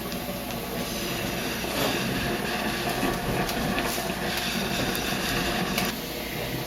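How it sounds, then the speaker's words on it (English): A commercial grade steamer steaming wallpaper off a wall gives a constant hissing, rushing drone with a faint rattling pulse underneath, steady and close throughout, no talking. "I've been steaming the wallpaper off now for a few minutes"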